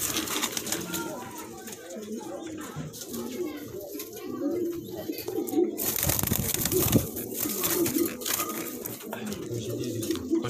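Pigeons kept for sale, a male and female pair among others, cooing softly in low repeated calls amid rustling and handling noise, with someone talking nearby throughout.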